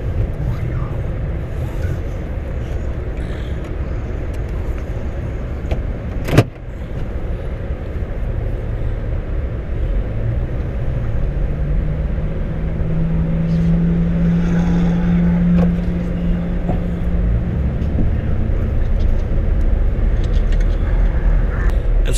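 A steady low engine and road rumble drones from inside a car heading out on a cold-winter bass fishing trip with a rod carrier mounted, broken once by a sharp thump.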